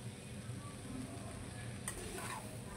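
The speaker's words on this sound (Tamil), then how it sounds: "இப்போ கொத்து பரோட்டாவுக்கு நம்ம இந்த வெங்காயத்தையும் கேரட்டு இதெல்லாம் சூடு பண்ணிக்கலாம்." Onions and carrots sizzling gently in oil on a dosa griddle for kothu parotta, a faint steady frying hiss with a brief stirring scrape partway through.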